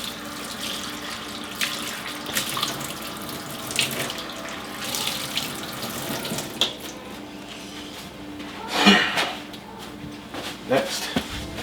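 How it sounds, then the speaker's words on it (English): Running kitchen tap water while washing hands after handling raw chicken, a steady close splash with intermittent louder gushes, mixed with light clatter and a person talking at times. "Wash my hands if I'm handling raw chicken."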